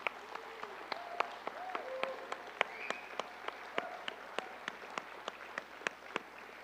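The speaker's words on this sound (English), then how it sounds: "I'd like to see if we could all give JC a large round of applause." Sparse applause from a small audience at a Seneca presidential convention gathering, individual claps spaced out in an uneven rhythm over a steady low hum, with faint voices underneath.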